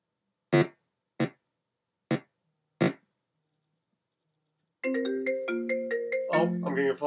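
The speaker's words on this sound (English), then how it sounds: "I'm getting a phone call on my computer" A computer's incoming-call ringtone starts after four short, separate clicks or taps, then plays a steady bright melodic chime loop, loud and close, with no talk over it.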